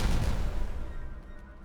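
Explosions in the Timberborn video game, a rumbling boom that starts loud and fades away over under two seconds, with no voices.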